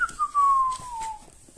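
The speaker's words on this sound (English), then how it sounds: "Teach had a little wooden whistle." A small wooden whistle gives one clear, sustained tone that slides gently downward in pitch for about a second, then fades out, heard alone and close.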